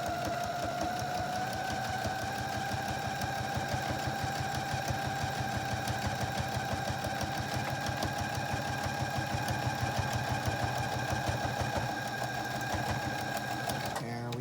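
A sewing machine top stitching a zippered pouch runs steadily for about twelve seconds with a fast, even mechanical chatter and motor whine, then stops near the end.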